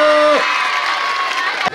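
A school audience at a quiz final breaks into brief applause and cheering, a short burst of clapping overlapping the tail end of a public-address voice.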